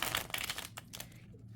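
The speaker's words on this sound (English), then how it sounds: "It's pretty, actually pretty easy to shuffle." Tarot cards of a flexible, bendy deck being shuffled, a quick papery riffle of crinkling flutter lasting about a second, fairly faint and close, then softening into quieter rustling.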